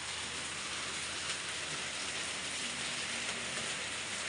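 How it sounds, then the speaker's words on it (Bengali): Heavy rain pours steadily in a dense, unbroken hiss that holds at the same loudness throughout, with no voices. "এবার নাও বৃষ্টি, যত নেবা নাও, কোনো অসুবিধা নেই। কত বৃষ্টি দেখো।"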